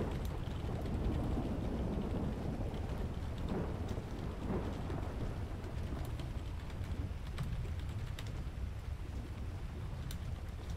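A thunderstorm in the GTA game world on a camping trip: steady, fairly loud rain hiss with low rolling thunder rumbles running continuously throughout, no voices.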